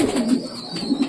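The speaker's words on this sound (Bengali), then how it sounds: "সব পায়রা মুডে আছে, যাদের যাদের বাচ্চা বড় হয়ে গেছে প্লাস বাচ্চা নেই যাদের যাদের, তারা সবাই টোটালি মুডে আছে" Pigeons cooing close by in soft, repeated low throaty calls with a steady rhythm, no talking over them.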